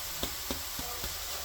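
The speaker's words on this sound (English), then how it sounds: "now we're just going to cook the onions out until it's translucent and soft" Onions soften in a pan over medium heat in a village kitchen, a quiet, steady sizzle broken by a few soft stirring taps.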